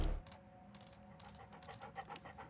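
Dog panting heard in a video game, a steady run of quick rhythmic breaths close up, soft and continuous over low game ambience with no talking.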